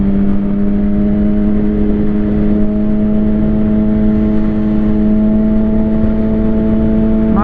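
Steady in-car engine hum and road whir while crawling through heavy commuter traffic on a foggy morning, a constant, unbroken drone with no one speaking.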